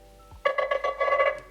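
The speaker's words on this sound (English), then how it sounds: "Ringtones, we have nice little ringtones, so let's go and actually test this out." A Nothing Phone (2a) ringtone plays alone, a bright melodic electronic pattern of repeated chiming notes with clear tonal harmonics, starting abruptly after a brief quiet moment and continuing steadily.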